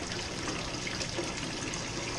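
Water pouring from a clip-on filling device into an aquarium tank during a water change, a steady, soft rushing trickle that runs continuously and evenly for a couple of seconds.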